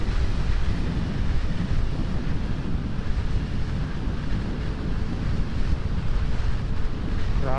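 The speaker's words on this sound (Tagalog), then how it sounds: "Grabe ang lakas ng hangin ngayon dito." Strong wind in Albay Province roars steadily against the microphone, a loud, constant low rumble with no breaks and no voices.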